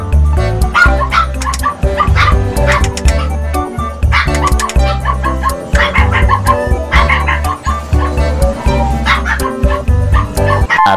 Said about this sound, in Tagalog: Ang ingay na naman guys ng mga aso.